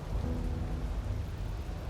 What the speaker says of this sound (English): Is there a reason it would be raining?